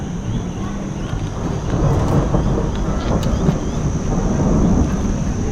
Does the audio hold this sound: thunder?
yes